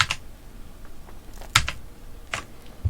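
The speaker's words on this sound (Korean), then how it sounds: "이번에는 아까처럼 컨트롤 알트 숫자 2번 버튼을 다시 눌러주세요" Keyboard keys are pressed for a Ctrl+Alt+2 shortcut in Photoshop, giving a few crisp, close clicks spaced irregularly in otherwise quiet surroundings.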